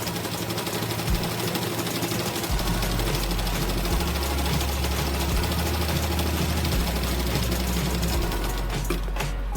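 Sewing machine stitching the straight panels of a blouse with a seam margin, a loud continuous motorized whir with a low rumbling drone that runs steadily throughout, with brief shifts in pace.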